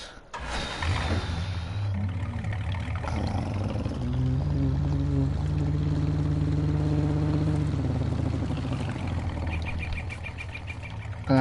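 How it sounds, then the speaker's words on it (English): A vintage pickup-style truck engine idling and revving in Farming Simulator Seasons, a steady low droning hum that rises in pitch and intensity, loud and close, heard alone. "Gonna have to shut the engine off."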